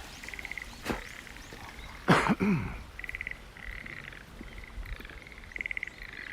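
Frogs croak in short repeated pulsing bursts beside flooded rice paddies fed by spring water in early-morning Japan, with a brief louder clatter midway and steady calling throughout.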